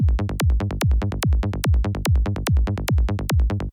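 A steady psytrance bass groove leaps up an octave on every repeat, driving, fast, tightly rhythmic pulses over a kick, loud and continuous with no voices.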